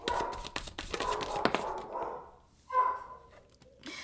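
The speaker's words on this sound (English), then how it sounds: "I got another one while my dogs are barking." A dog barks in a rapid burst of sharp yaps, then a short pause, followed by a couple more isolated barks nearby.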